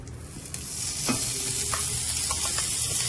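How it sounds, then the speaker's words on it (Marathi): Homemade butter melting and sizzling on a hot tawa for pav bhaji, a steady close-up frying hiss with a few light scrapes of a spatula. "आता मी ते तवा तापत ठेवलेला आहे, मी हा जो होममेड बटर आहे तो याच्यामध्ये यूज करते।"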